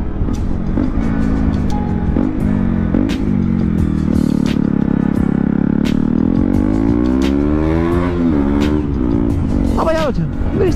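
A KTM Duke 125 engine revving hard and shifted without the clutch, its droning pitch rising and dipping at each gear change, loud and continuous, with occasional crackles like backfire pops.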